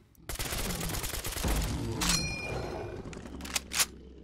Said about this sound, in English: Now then, let's try out the full auto.